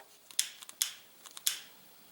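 Scissors cut off the excess end of a horse lead rope, making three close, crisp snips with smaller clicks of the blades between them, in a quiet room.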